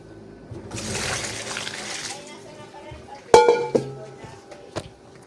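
Dry spaghetti tipped into a cooking pot gives a rushing, rattling pour for about a second and a half, followed by a few sharp clinks and knocks of metal and pot up close.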